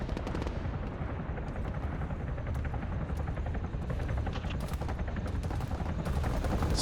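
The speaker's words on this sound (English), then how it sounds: "Some gunfire pretty close," Close-range gunfire in the Arma 3 King of the Hill game: rapid bursts of shots crackle over a steady, dense helicopter-like engine roar that fills the whole stretch.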